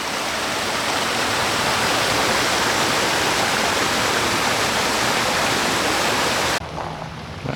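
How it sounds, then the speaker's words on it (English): A small mountain creek rushes along a hiking trail in a loud, steady broadband roar of flowing water, close by, cutting off abruptly near the end. "Nice little creek."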